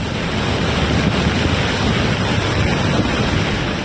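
Floodwater surges through a town in Mandi, Himachal Pradesh, carrying mountain debris past houses during heavy monsoon rain, a steady, loud, unbroken roar of rushing water with no voices.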